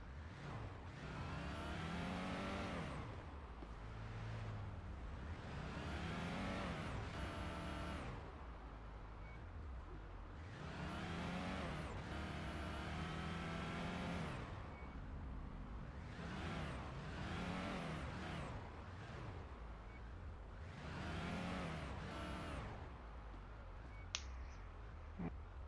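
Police car in the video game Police Simulator: Patrol Officers, engine droning steadily with repeated revving swells and shifting pitch across the whole stretch, close and fairly loud, with no voices.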